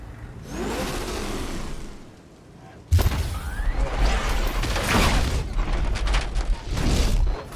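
A tank engine in Batman: Arkham Knight rumbles steadily, with a quieter lull before a sudden loud surge that keeps heavy low mechanical noise going to the end, mixed with game effects.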